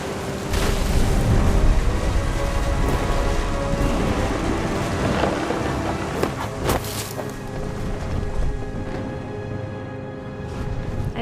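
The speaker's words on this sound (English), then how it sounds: "The thunder sounded much too close and full of angry power." Stormy weather in the game What Remains of Edith Finch: rumbling thunder and a broad wash of rain and wind, loud and full at first, then easing toward the end, with no voices.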